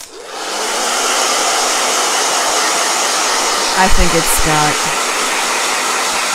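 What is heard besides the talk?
hair dryer blowing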